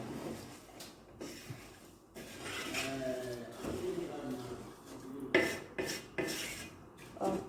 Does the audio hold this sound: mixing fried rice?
yes